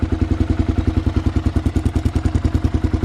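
A rebuilt 1990 Kawasaki KLR 650 dual-sport motorcycle's single-cylinder engine idling: loud, close, even low thumping pulses in a fast regular rhythm with a mechanical clatter on top.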